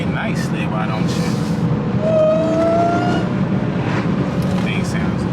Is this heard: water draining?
no